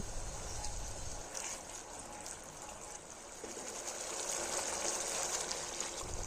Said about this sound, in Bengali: এখন এর মধ্যে অ্যাড করে দেব গরম জল